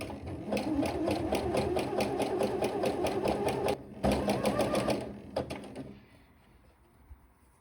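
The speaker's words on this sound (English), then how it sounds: "the machine is still set to zigzag, we can finish the bottom hem" A sewing machine set to zigzag runs steadily along the single-layer bottom hem edge of a jersey skirt, a close, even rhythmic whir with a short pause midway, a few quick final stitches, then silence.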